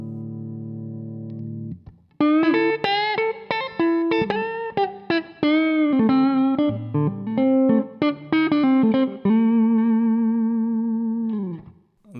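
An electric guitar, Stratocaster or humbuckers, plays a melodic phrase through an Echolette Mk1 amp with a midrange-heavy, slightly effected tone, ringing out on a sustained final note.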